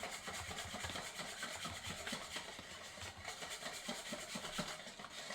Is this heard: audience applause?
no